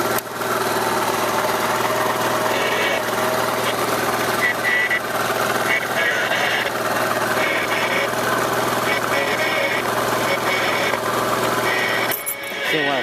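A moped engine runs steadily nearby at a fast, buzzing idle, its drone continuing without a break until a brief change near the end.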